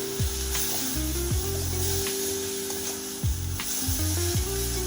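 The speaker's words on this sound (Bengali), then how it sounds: "মশলাটা একটু কষিয়ে নেব মশলাটা একটু দু থেকে তিন মিনিট একটু নাড়িয়ে নিলাম" Ground coriander and chilli powder stir-frying in hot oil make a continuous hiss and sizzle, with low droning tones stepping along underneath throughout.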